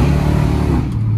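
A 1968 Dodge Coronet 500 with a 440 V8 revs loud and close, a steady deep exhaust roar that eases off slightly near the end, with no speech over it.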